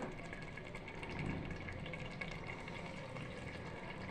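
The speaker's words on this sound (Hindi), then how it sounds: "इसमें हम पानी डाल देते हैं" Water is poured into chicken masala in a cooking pan, making a steady close gush and sizzle that stays fairly constant throughout, with no talk.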